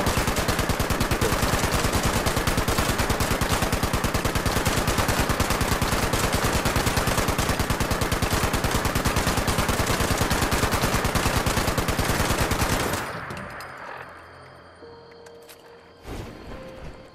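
Sustained, rapid automatic gunfire from weapons in the video game Fallout 76 hammers on loudly for about thirteen seconds, then cuts off, leaving quieter scattered game sounds.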